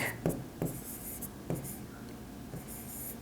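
Pen writing on paper while an accounting problem is worked, scratchy strokes in short bursts with faint sharp taps, close and quiet, a soft voice at times underneath.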